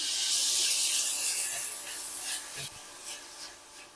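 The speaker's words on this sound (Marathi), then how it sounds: "त्याच्यामध्ये मी आता दही घालणार आहे." Yogurt poured into vegetables already sautéed in hot oil in a home kitchen, a strong continuous hiss and sizzle that is loud at first, then eases slightly with a few sputters near the end.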